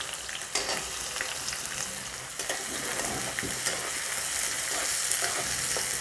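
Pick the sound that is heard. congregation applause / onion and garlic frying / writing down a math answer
onion and garlic frying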